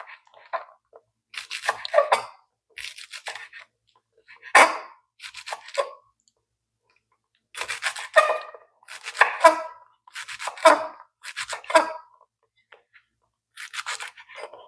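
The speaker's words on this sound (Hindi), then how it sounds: "ये देखें कितना छोटा-छोटा सा मैं काट रही हूँ।" A knife finely chops home-grown green garlic leaves on a board in quick, close bursts of crisp taps, with short pauses between runs.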